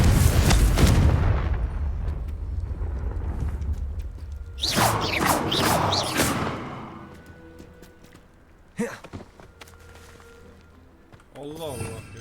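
Confringo fire blast spell explosions in Hogwarts Legacy, a video game, come as a heavy booming burst at the start that fades. Further sharp game impacts and effects follow, and a voice is heard briefly.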